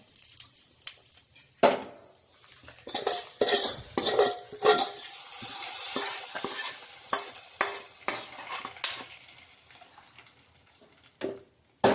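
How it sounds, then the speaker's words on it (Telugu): Hot oil sizzling as tempering is added to vegetable sambar, punctuated by repeated scraping and clinking of a spoon against the pan, fairly close. "ఇది వేస్తున్నా, తాలింపు వేస్తున్నా ఫ్రెండ్స్."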